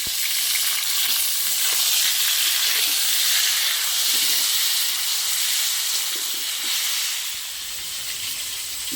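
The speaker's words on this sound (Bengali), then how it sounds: "এবার আমি কেটে রাখা টমেটো দিয়ে দেবো।" Chopped tomatoes go into a pan of fried potatoes and bay leaves for Bengali chicken kosha, sending up a loud, dense, continuous sizzle and hiss that eases slightly near the end.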